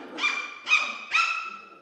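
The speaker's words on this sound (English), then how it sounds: "So we have some very chatty puppies tonight." Seven-week-old Mini Goldendoodle puppies let out three high, whiny yips in quick succession, close and fairly loud, with no talking over them.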